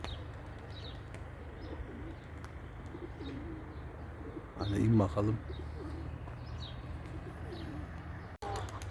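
Soft, low pigeon cooing during pigeon flight training drifts in a short burst under steady outdoor background noise, with faint chirps and a brief spoken phrase nearby.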